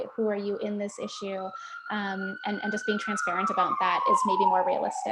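A wailing siren rises and sweeps slowly in pitch as it passes outside, moderately loud and continuous beneath a person talking steadily throughout.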